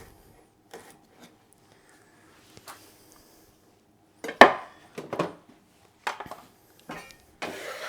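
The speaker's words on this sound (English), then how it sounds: "So I'm just gonna cut that nice and fine" A knife finely chops spring onions on a board in a few sparse, irregular taps, some in quick bursts, between stretches of near silence, close and fairly quiet, with nobody talking.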